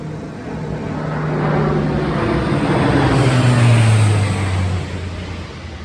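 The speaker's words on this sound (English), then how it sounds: "That was like a jet or something." A jet aircraft passes overhead outdoors, a broad rising-and-falling roar with a descending engine tone that swells to a peak around the middle and fades toward the end, steady and fairly loud with no talk.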